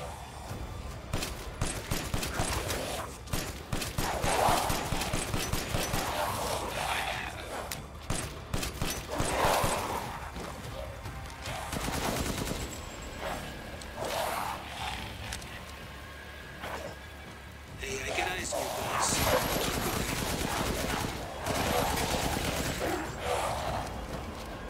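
Bursts of automatic fire and volleys of shots crackle across a long Resident Evil Village battle, coming in repeated loud waves with short lulls between them, faint voices now and then.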